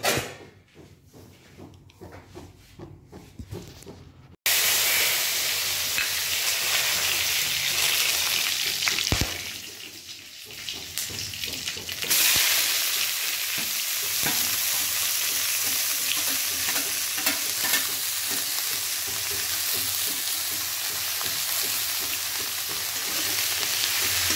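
Mutton frying in hot oil with ginger and onion in a pan, starting as a softer sizzle, then bursting into a loud, continuous hiss that dips briefly while the food is stirred before surging back strong.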